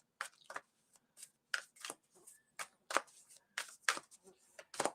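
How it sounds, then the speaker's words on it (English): A deck of cards is shuffled up close during a mediumship reading, with a quick series of crisp, papery riffles and taps in irregular bursts, quiet, with no speech over it. "Just shuffle the other deck here."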